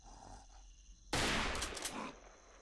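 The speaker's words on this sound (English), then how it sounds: "Do you notice how long that gunfire rang on for?" A sudden loud burst of gunfire erupts in the video game Congo after a quiet stretch, several rapid shots blending into a long ringing echo that slowly fades.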